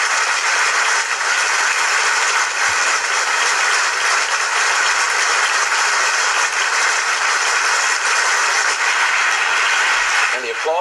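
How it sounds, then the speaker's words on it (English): Sustained, dense applause from members of Congress in the U.S. House chamber greeting Pope Francis, a steady roaring wash of clapping that continues unbroken and loud throughout. "And the applause goes on and on."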